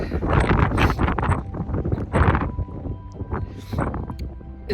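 Strong outdoor wind buffets the microphone in gusty bursts on a cold winter trail near Roncesvalles in the Pyrenees, a loud rumbling roar that swells and fades over several seconds with no clear speech.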